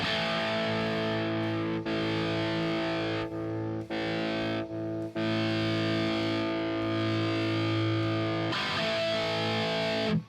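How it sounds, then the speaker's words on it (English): A heavily distorted electric guitar through a Softube amp sim drive sustains gritty, buzzing chords, with brief cut-offs between them, loud and up close. "It's also not a nice distortion and not a nice drive."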